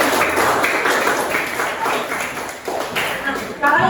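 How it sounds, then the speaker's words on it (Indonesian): Classroom pupils clapping their hands in bursts, the rhythmic claps rising and falling close by, with voices talking over them and a sharper clap near the end. "Mentari, tepuk tangan dulu."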